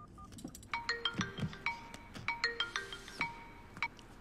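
A phone rings with a repeating electronic tone while a call is placed to a chartered accountant, the ringing at a moderate level with soft background noise.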